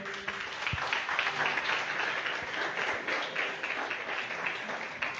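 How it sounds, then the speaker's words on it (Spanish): A church congregation claps in sustained, dense applause that holds steady throughout, filling the room without any voices rising above it. "Démosle un aplauso al Señor."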